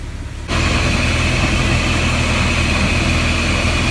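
A Jeep WJ engine runs steadily at idle during break-in, a constant loud rumbling drone that kicks in after a brief quieter moment and continues unchanged.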